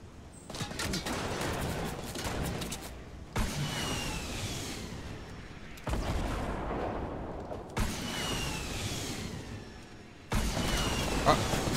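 Gunfire in the video game Fortnite, a dense continuous barrage of shots with sharp bursts, heard close amid vehicle and game noise over about twelve seconds.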